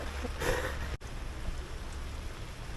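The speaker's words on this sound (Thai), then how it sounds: "ตอนนี้รอ รอให้ฝนหยุดตก ให้ฝนมันเบาหน่อย" Rain falls steadily outdoors during a stop on a trip, a continuous soft hiss with a brief louder patch early on and a short dropout near the one-second mark.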